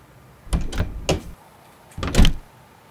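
A truck door in Euro Truck Simulator 2 opens and shuts as the driver climbs out, giving two separate clunking bursts a second or so apart, fairly loud and close, with no speech over them.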